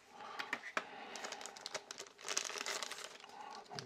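Unboxing a Nintendo Game & Watch Mario handheld: close, quiet crinkling and rustling of packaging with scattered crisp snaps and tearing-like scrapes, no talking.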